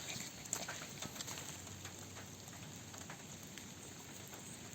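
Steady rain patters and hisses on surfaces all around on the Mount Gulaga trail, NSW Far South Coast, with a few faint bird sounds in the background.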